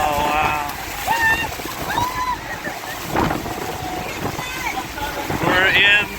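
A tour boat rides through rushing water and spray near Niagara Falls with a steady, loud roar and wind buffeting, while people speak and exclaim over it throughout.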